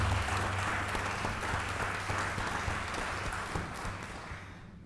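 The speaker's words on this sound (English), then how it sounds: "Let's give other young folks a round of applause." Crowd applause at a gathering one year after the death of Michael Brown in Ferguson, honoring young activists. The clapping is steady and fairly distant over a low hum, fading slightly toward the end.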